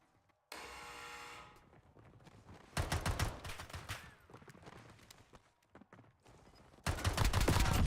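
Automatic gunfire in the video game Call of Duty Warzone, on the Verdansk map, comes in several loud, close rapid-fire bursts separated by short lulls of quieter game sounds.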